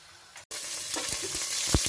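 Cassava flour dough fries in hot oil: a bright, steady sizzle that cuts out for a moment, then resumes with several soft knocks and scrapes of a utensil against the pan, close by and without speech.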